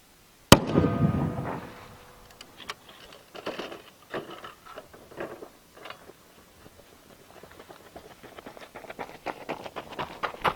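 A single sharp, loud report from a .50 BMG rifle fired straight up into the air, followed by a long stretch of faint, scattered clicks and rustling outdoors.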